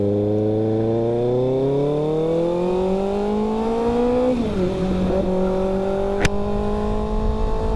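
Motorcycle engine revving up smoothly, pitch climbing steadily, then dropping briefly at a gear shift before rising again, loud and close with no talk.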